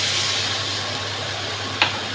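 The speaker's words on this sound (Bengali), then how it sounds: "এখানে অল্প করে জল দিয়ে দিচ্ছি" Water poured into a hot pan of fried pointed gourd, a loud steady steam hiss close by with one brief sharp sputter near the end.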